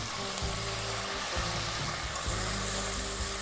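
Chopped tomatoes frying in a pan with mint for Jain kushka rice, a steady broadband sizzle with low rumbling bursts throughout, close and fairly loud with no talk.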